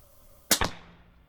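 Two quick sharp reports from a gun fired while shooting quietly around others, a close, muffled double crack with a short decaying tail, alone with no talking.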